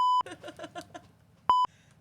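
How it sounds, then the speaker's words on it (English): Two loud, pure electronic censor beeps, each about a fifth of a second, bracket a stretch of faint, muffled speech and laughter in between. "That beep is incredible."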